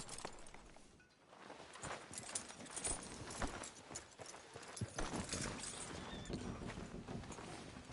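Horse hooves clop along at a walking pace in Red Dead Redemption 2, a quiet irregular stream of hoof falls over faint outdoor ambience.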